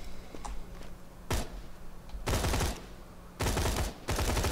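Rapid bursts of gunfire from an orange weapon in the video game Borderlands 2: a brief crack, then three loud, sharp volleys in close succession.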